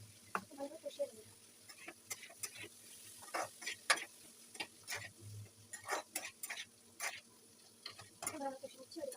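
Ginger, chili and cumin sauté in a pan with intermittent scraping and stirring knocks of a spatula over a faint sizzle, close and quiet, with a voice speaking briefly.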